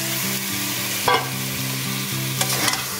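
Marinated meat fries in spiced oil in a pan while being stirred. A continuous close sizzle runs throughout with occasional louder scraping stirs, over a low steady tonal hum in the background.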